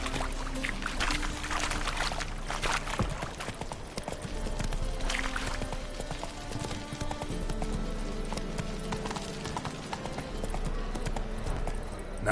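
Geralt's horse Roach galloping in The Witcher 3, hooves pounding in a quick, steady clip-clop with bursts of louder impacts over game ambience and scattered background noise.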